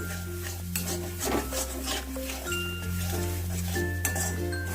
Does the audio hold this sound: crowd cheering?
no